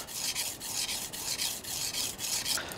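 A knife blade is stroked back and forth across a whetstone, raising a burr along a secondary bevel. Rhythmic rasping strokes repeat steadily about every half second, close and fairly loud, with no voices.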